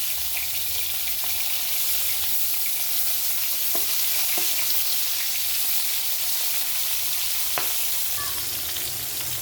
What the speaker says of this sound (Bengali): একটু পাকা পটল। দেখুন, এটাকে ভালো করে ভেজে নেব আমি।